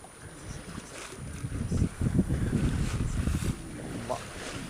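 A sailboat sails a flat sea near Corsica and Sardinia in light wind, giving a steady low rush of water along the hull and soft wind noise on the microphone, with faint, indistinct voices in the background.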